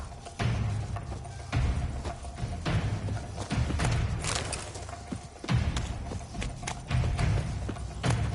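Horse hooves clip-clop in The Witcher 3 game, a run of repeated hoofbeats in uneven rhythm with occasional heavier thuds and a brief whinny, heard fairly close and loud, with no voices over them.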